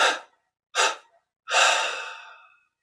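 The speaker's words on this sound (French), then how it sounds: "On expire en 3 fois." Three separate breathy exhalations during a guided meditation: two short puffs followed by a longer, gradually fading out-breath, close and quiet with silence between them.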